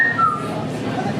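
Someone whistles a brief tune in a home kitchen over a steady background hum, the thin tone wavering and fading in and out across about a second.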